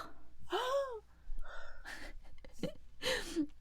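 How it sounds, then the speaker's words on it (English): Someone lets out a string of theatrical, drawn-out gasps, sharp intakes of breath with a rising vocal edge, repeated several times in a quiet room. "We do like a fanciful gasp, don't we?"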